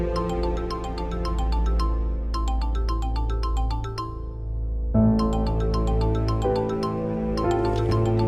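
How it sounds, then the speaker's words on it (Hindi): A phone ringtone plays continuously as a melodic electronic tune, loud and close, with a brief pause partway through before it resumes. "रमशा की भी कॉल्स आ रही है।"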